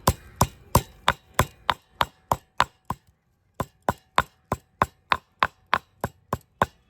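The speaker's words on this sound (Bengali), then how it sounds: "সুন্দর কেটে নিচ্ছি" Banyan tree parts are chopped with a knife on a board, about nineteen crisp, evenly spaced strokes in two runs separated by a short pause, close and clear with no voices.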